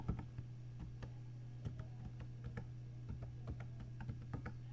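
Keys tapped on a computer keyboard while entering a password, a quick irregular run of light clicks close by over a steady low hum.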